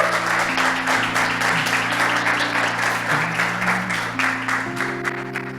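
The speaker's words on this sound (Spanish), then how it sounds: "quiero pedirle que para usted mismo se dé un fuerte aplauso en esta noche" A church congregation gives a loud, sustained round of applause at an evening service, dense clapping close by, with sustained musical tones playing underneath.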